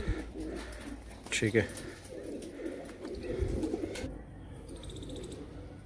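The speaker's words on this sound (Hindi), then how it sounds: "गोल्डन आइस का कबूतर है ये भी" A golden ice pigeon gives soft, low coos held close by hand, the calls faint and mixed with rustling and a voice speaking briefly.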